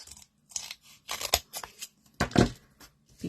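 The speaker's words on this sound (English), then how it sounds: "I'm just going to cut some strips" Scissors cut a foam sheet into strips, making a rapid series of crisp snips and crunchy slices close by, in short irregular bursts separated by brief pauses.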